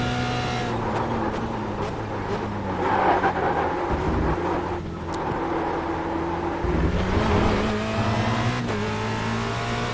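Formula Renault 2.0 race car in a sim racing game lapping Monza, heard from the cockpit: a loud continuous engine whine rising through the gears with brief drops at each shift and downshifts into braking zones.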